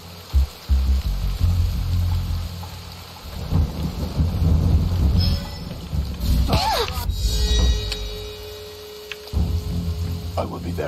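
Steady rain patters under low rumbling thunder in the video game Shadow Tactics: Blades of the Shogun, with a sharp crack and a rising electronic tone partway through. No clear speech.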